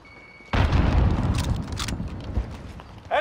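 Grenades explode in a Warzone battle royale match: a sudden heavy blast hits after a short quiet lead-in, followed by a rumbling, crackling tail and further sharp bursts near the end.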